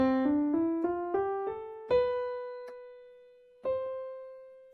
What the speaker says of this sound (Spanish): Este es el sonido de la séptima específicamente.